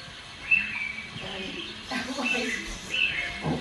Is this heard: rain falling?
no